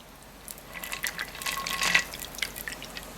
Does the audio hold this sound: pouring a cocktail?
yes